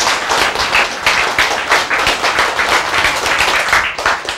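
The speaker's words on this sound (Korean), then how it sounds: "박수 박수 박수" Audience members at a lecture clap in a rhythmic, pulsing pattern, bursts of hand claps rising and falling in regular beats, close and fairly loud.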